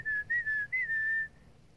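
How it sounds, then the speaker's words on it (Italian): A single person whistles a short wavering tune, a few clear sliding notes in a quiet room, near and soft, fading into silence at the end. "fischiare"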